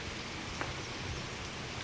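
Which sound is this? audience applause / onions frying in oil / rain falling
rain falling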